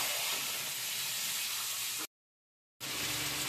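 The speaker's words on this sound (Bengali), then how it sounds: "মশলায় তেল হয়ে দিয়েছে, এবার আমি চিকেন দিয়ে দেবো" Chicken pieces rubbed with salt, raw oil, turmeric and lemon juice hit hot spiced oil, giving a strong, steady sizzle and hiss that cuts out briefly and then resumes, close and fairly loud.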